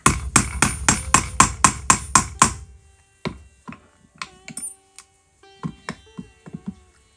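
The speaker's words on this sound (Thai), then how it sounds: "ใส่เข้าไปแบบนี้แล้วก็ทำการตอกได้เลยค่ะ" Eight sharp, evenly spaced hammer strikes on a snap button setter ring out close by, fastening a snap on a cord holder keychain, followed by lighter irregular taps and clicks of metal tools.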